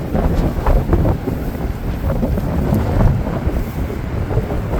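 Strong sea wind buffeting the microphone on a beach on Borkum island, a gusty, rumbling roar that stays loud and continuous, with surf-like wash underneath and no voices.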